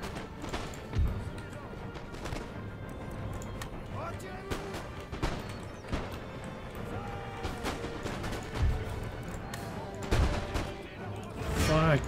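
Volleys of cannon and musket fire in an Empire: Total War battle, including canister shot at point blank range, booming in several bursts over a constant battlefield din with a voice talking underneath.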